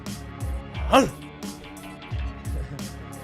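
A man imitates a dog's bark with his voice, a short gruff yip rising in pitch amid casual talk in a relaxed live chat setting.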